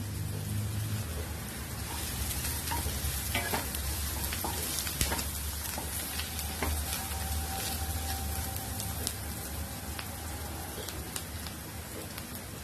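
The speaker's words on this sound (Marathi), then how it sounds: "कांदा चांगला परतून घेऊया" Chopped onion sautéing in a pan for a raw mango curry makes a dense, crackling sizzle like steady rain, continuous and moderately loud with scattered sharper pops.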